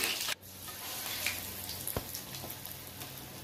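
Cabbage chicken cutlets, coated in breadcrumbs, fry in white oil with a steady close crackling sizzle, sharp pops scattered throughout.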